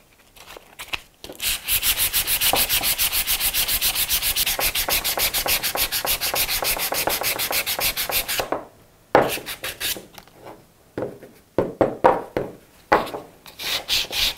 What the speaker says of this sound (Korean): 이제 바깥쪽 사포질 할게요